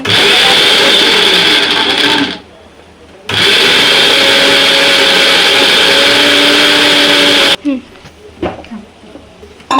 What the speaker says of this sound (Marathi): हे आपण इथं मिक्सरला वाटून घेतलंय